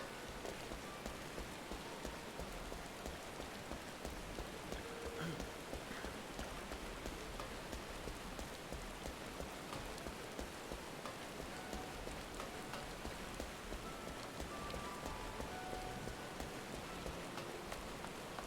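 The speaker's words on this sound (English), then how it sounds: "I'd be careful, those rocks are going to be slippery in the rain." Steady rain falling in Final Fantasy XIV, a dense, even hiss of drops on surfaces with constant loudness throughout and no voices.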